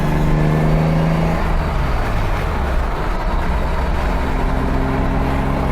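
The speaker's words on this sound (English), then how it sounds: "Transmission's kind of loud." Steady, loud drivetrain drone from a manual transmission swapped into a Toyota Supra MKIV, with a low whine that shifts in pitch as the car moves, continuous throughout with no voices.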